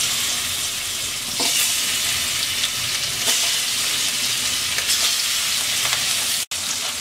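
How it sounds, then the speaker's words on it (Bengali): Hilsa fish sizzles and crackles loudly in hot oil in a wok, a steady close frying hiss with small pops throughout and a brief break near the end, with no talking. "তেলটা গরম হয়ে গেছে, মাছ দিয়ে দিচ্ছি।"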